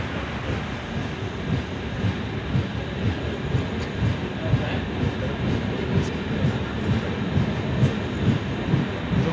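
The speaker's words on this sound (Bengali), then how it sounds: "ব্যাস এই, চলো পারাসনাথে ডিপার্ট করে গেল" Gwalior Howrah Chambal Express departing Parasnath station, heard from on board as a steady low rumble of rolling wheels and rattling carriages, continuous and moderately loud throughout.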